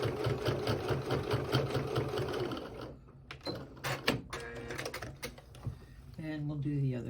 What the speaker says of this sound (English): go ahead and back stitch